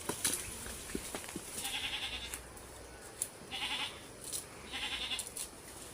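A two-month-old goat kid bleats in a few short, high calls that recur every second or so, fairly near, with faint background rustle and no talk.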